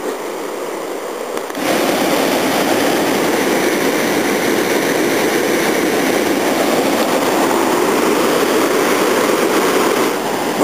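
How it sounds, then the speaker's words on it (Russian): Roaring waterfall at Nelson Lakes, New Zealand: a loud, steady broadband rush of falling water starts abruptly after a quieter opening second and holds unbroken for the rest of the clip. "Смотри, водопадище такой."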